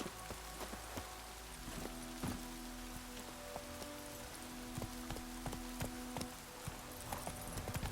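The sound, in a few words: horse Roach galloping in The Witcher 3 video game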